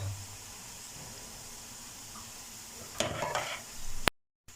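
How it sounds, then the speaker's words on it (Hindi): Besan dahi bara dumplings fry in hot oil with a soft, steady sizzle. Brief clattering stirring sounds follow before the sound cuts off abruptly. "ये देखिए बहुत अच्छे से फ्राई हो रहे हैं।"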